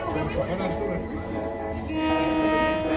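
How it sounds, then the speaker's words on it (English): A train in Thailand rumbles past close by, with a steady mechanical drone and a rising tonal whine as it moves along. "โปรดระมัดระวังอันตรายจากขบวนรถไฟ"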